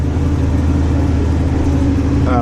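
Tractor engine running steadily at close range while spreading fertiliser across a reseeded 16-acre field, a loud continuous low drone with no pauses or speech.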